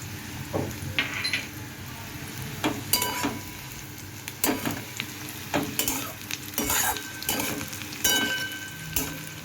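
Poppy seeds stirred in a pan of hot oil on low heat while making bitter gourd in mustard paste, with a steady sizzle under repeated scraping and clinking of a spoon against the pan, close and fairly loud.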